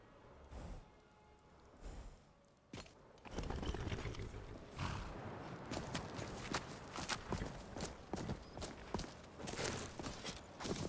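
A horse's hooves clip-clop along in Skyrim, with uneven steady thuds at close range and a louder stretch of faster, denser hoofbeats, partly blurred by a rain-like hiss and no talking.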